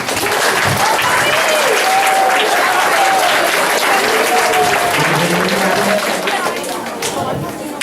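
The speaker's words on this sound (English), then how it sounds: "Please give a round of applause for Robbie Simpson." Loud, sustained applause fills a room as a finalist is introduced at an indoor event, with cheers and crowd chatter mixed into the dense clapping, which holds steady and eases only slightly near the end.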